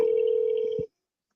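A single telephone ring tone sounds while the call waits for voicemail to answer. It is a steady electronic buzz lasting just under a second and then cuts off into silence, with no talking.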